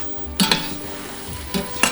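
Meat, onion and carrot fry and sizzle steadily in a pan for lagman, with a few louder clatters of a utensil stirring, no voices.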